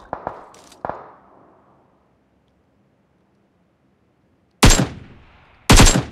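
PUBG Mobile gunfire: a few quick sharp shots up close at the start, then a long quiet gap, followed by two loud, heavy bursts of automatic fire near the end.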